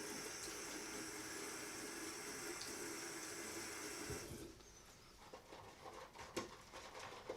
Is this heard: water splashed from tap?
yes